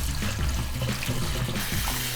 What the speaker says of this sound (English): So you rinse the rice until the water is slightly clear with a bit of sediment in it